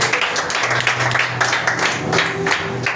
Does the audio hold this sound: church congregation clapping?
yes